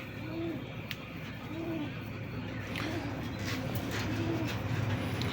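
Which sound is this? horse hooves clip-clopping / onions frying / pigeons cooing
pigeons cooing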